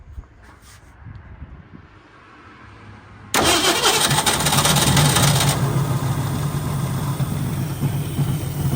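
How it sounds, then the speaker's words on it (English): A 1965 Ford Mustang engine, freshly fitted with a rebuilt carburetor, cranks briefly and then catches, settling into a loud, steady idle that runs on alone close by. "let's see how quick it kicks over this time"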